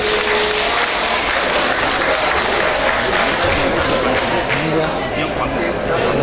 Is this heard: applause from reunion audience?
yes